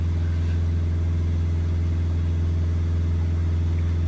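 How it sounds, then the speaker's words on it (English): A Citroen Relay 2.0 diesel van engine runs steadily at raised revs, a continuous low, throbbing rumble with no voices, held at an even pitch throughout. "Just going to hold the revs on the van while we're looking at this, just to get the temperature up."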